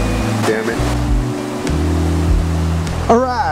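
Creek water flowing in Chalk Creek Canyon near Mt. Princeton, Colorado, gives a steady rushing wash that runs under tonal sounds and what seems to be a voice, with a brighter burst near the end.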